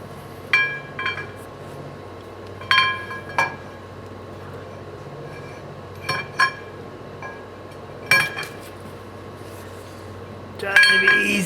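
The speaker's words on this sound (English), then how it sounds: "Gonna slide the axle back into the tube." Metallic clinks and scrapes come as the rear axle shaft of a 1980 Chevy Silverado with a GM 12-bolt axle slides back into the axle tube, several short sharp knocks in small clusters over a quiet garage background.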